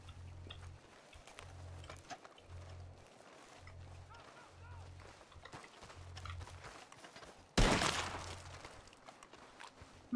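Gunfire in the Red Dead roleplay game RedM, set around 1920: a single loud sharp shot near the end, after a stretch of hoofbeats and ambient game sound, with voices talking underneath.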